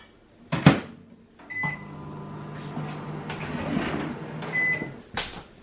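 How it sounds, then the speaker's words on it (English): A microwave oven heating butter and chocolate for a cake runs with a steady low hum. A door clunk and a button beep come before it, and it ends with a beep. "I'm going to put it in the microwave for 30 seconds."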